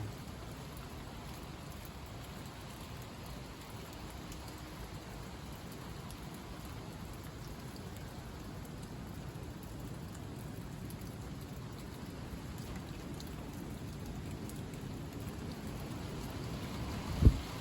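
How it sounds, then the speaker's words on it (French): Steady rain falls continuously amid gusts, a dense even hiss with a low rumble beneath, ending with a single brief sharp knock. "il pleut encore"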